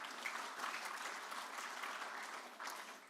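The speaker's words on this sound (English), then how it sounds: "Give yourselves a round of applause." Audience applause at a State of Our Union public forum in Nebraska: steady, dense clapping from a crowd fills the whole stretch, fairly even in level with a slight swell midway and no voices over it.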